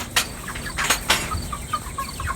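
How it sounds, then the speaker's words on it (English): Meat chickens cluck nearby at feeding time, a few sharp squawks and soft clucks spread over two seconds against quiet farmyard background. "Just feeding the chickens,"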